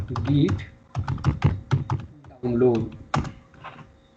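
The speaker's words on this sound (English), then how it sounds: "type here git download" Keys clatter on a computer keyboard in short bursts of clicks, mixed in with a person talking nearby.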